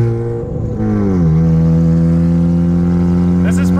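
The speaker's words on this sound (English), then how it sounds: "Listen to that exhaust." A Mazda RX-7 FC3S Turbo II's exhaust burbles loudly and steadily as the car pulls away, the engine note sliding down then holding a constant drone close to the microphone.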